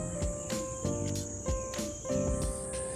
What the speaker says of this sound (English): beginning to hear the sounds of cicadas.